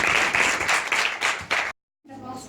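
A classroom applauds the winning team in a quiz with a brief burst of steady clapping. The clapping stops abruptly, and then low talk resumes.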